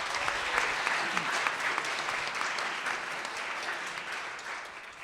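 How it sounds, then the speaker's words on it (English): Steady applause from a crowd at a book launch panel discussion, many hands clapping continuously for the whole stretch at a moderate level. "So another round of applause, please, for all of our panelists."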